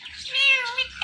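An Indian talking parrot imitates a cat's meow with a short, close, loud nasal meow-like call.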